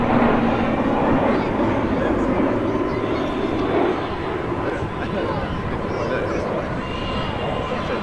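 RAAF Roulettes aerobatic aircraft fly in formation at an airshow, a steady loud propeller drone filling the whole stretch with crowd noise and an announcer's voice beneath it.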